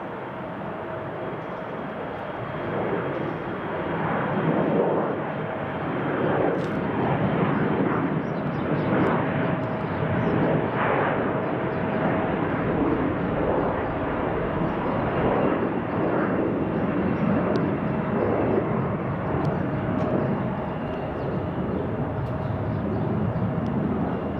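Jet airliners arriving from London and Amsterdam roar overhead in a broad, steady rumble that swells in the middle and fades slowly, heard at a distance outdoors with faint voices beneath.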